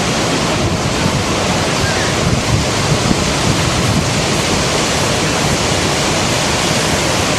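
River water flowing in Iceland near the Arctic Circle pours as a loud, unbroken broadband roar, steady from start to end with no voices.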